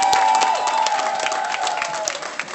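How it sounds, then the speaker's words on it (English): A live audience at a Louisville gospel event gives VaShawn Mitchell a round of applause, a loud, dense wash of clapping and cheering that holds steady throughout, with a few sharper claps standing out. "let's give him a round of applause"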